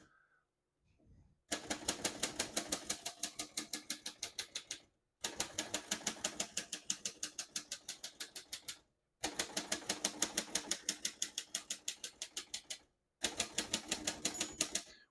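Typing on a 1937 Royal O Model portable typewriter: close, rapid bursts of sharp key strikes in four runs of steady clacking, each separated by a brief pause, with no talking over it.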